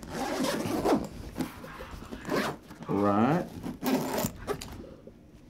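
A zipper on a Divoom school backpack is drawn shut in a few quick rasping pulls, the longest stroke in the middle, close and clear while someone talks around it.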